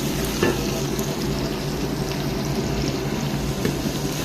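Chopped shallots and garlic frying in fresh oil in a pan, a steady close sizzle with occasional stirring scrapes, no voices.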